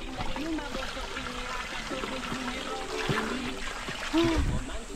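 Fresh stream water trickles steadily along a hiking trail, a soft continuous babble beneath quiet voices talking nearby.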